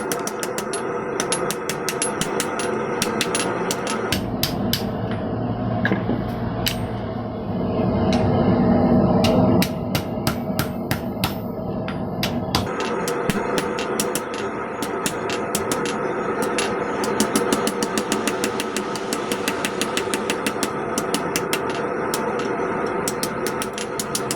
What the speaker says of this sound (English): Rotating while hammering helps close those creases.